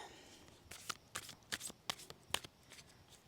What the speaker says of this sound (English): I'm going to shuffle some positive affirmation cards